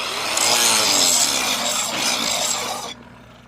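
A grinder disc polishing down a weld bevel and landing on steel, a loud continuous rasping whine that holds steady for nearly three seconds before cutting off abruptly.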